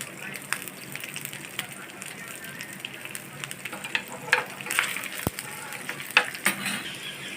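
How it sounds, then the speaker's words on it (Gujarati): Leftover roti snack pieces frying in a pan and being turned to cook both sides, a steady sizzle with scraping and stirring clatter while a voice talks over it. "આપણે નાસ્તો બનાવેલો છે એ આ રીતે બધો ફ્રાય કરી લેશું આગળ પાછળ બે સાઈડ"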